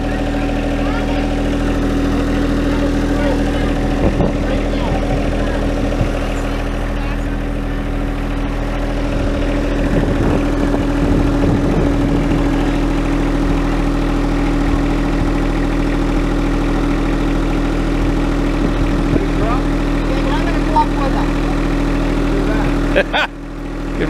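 A tractor engine idles steadily at a low, even drone throughout, loud and close, with people talking briefly over it while furniture is being moved.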